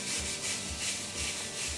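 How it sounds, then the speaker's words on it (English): A hair-removal sanding pad rubs back and forth over skin in quick, even strokes, producing a close, steady, gritty scraping with no voices. "You sand off the hair."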